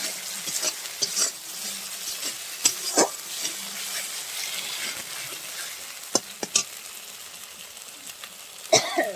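Dried red chilli paste frying with other ingredients for a rui fish and potato curry, a soft, steady sizzle broken by sharp stirring scrapes and several coughs or throat clears nearby.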